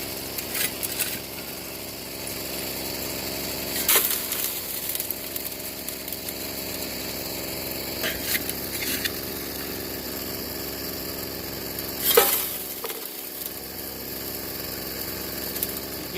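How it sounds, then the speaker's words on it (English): The gas-powered blower engine of a small Royal Explorer mini drywasher idles outdoors with a steady, moderate hum and a few faint clicks and knocks over it. "that blower there is on idle. It's been running all day."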